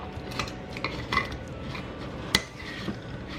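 A spoon stirs brewed coffee with creamer and a splash of syrup in a mug, giving a run of light, close metallic clinks and taps with one sharper knock near the end.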